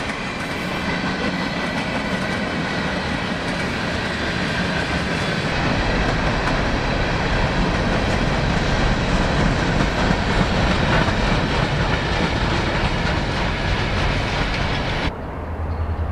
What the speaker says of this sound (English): A couple of the grade crossings on Track 1 are in pretty rough shape, and both trains and automobiles have a bumpy ride going over them